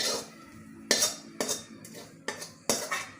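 Melted jaggery is scraped out of a pan into another vessel with a metal spoon. Five or six sharp clinks and scrapes ring out close by at irregular intervals, with no talking.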